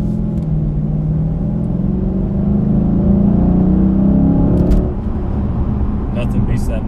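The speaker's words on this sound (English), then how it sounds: "nothing beats that Mopar sound" 2008 Dodge Challenger SRT8 First Edition V8 rumbles loudly nearby with a deep, steady idle that swells into a rev, then drops back to a low burble.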